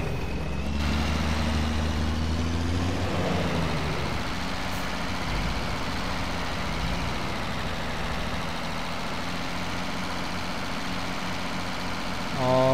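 Farm vehicle engine in a farming video game runs continuously with a deep, loud rumble. A slight rev shift comes early, then it settles into a steady drone with no talk.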